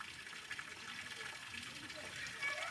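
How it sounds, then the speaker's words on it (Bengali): Water runs continuously from an open public tap with no head to shut it off, a steady rushing gush under a voice talking throughout. "জলের কোনো কলের কোনো মাথা দেওয়া থাকে না যে বন্ধ করবে এইভাবেই জল অনবরত সব সময় পড়তেই থাকে"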